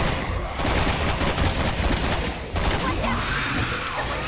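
In Resident Evil 6, allied soldiers lay down sustained automatic gunfire, dense and loud, with overlapping bursts continuing for several seconds. Voices can be heard amid the shooting.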